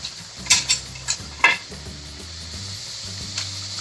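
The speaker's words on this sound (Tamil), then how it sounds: "மீடியம் ஃப்ளேம்லேயே வச்சு தட்டையை பொரிச்சுக்கோங்க." Thattai snacks deep-fry in oil on a medium flame, a soft steady sizzle broken by several sharp metallic clinks of a ladle or utensil against the pan.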